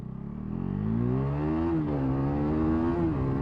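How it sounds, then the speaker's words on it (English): A motorcycle pulls a power wheelie, its engine revving up into a loud, rising whine that holds and wavers, heard close and alone without talk. "Little power wheelie again."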